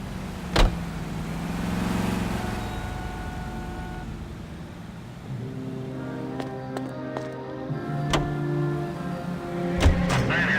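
A car driven in the video game L.A. Noire, a low engine hum under a steady mid-range drone, broken by several sharp clicks and thumps, with no talking.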